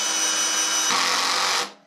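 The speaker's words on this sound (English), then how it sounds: "Let's go ahead and kick this up to 4 to see if we can drive this all the way in." A Greenworks cordless drill drives a 1-inch screw into wood, a loud steady whir that rises in pitch as the screw bites and then cuts off abruptly, with no talking.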